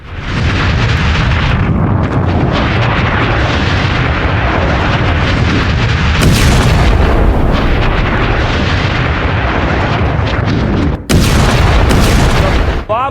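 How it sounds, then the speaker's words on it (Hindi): A Hezbollah double rocket launcher fires missiles toward Israel, a loud, sustained blasting roar punctuated by sharp bursts and cracks, with a brief break before another abrupt blast near the end. "ये डबल लॉन्चर है हिजबुल्लाह के, डबल लॉन्चर से इजराइल पर दाग दिया है।"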